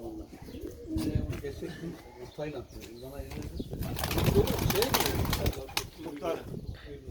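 Domestic pigeons, including white birds, coo in a loft with low, rolling calls that repeat unevenly. A few wing flutters break in, and people talk nearby throughout.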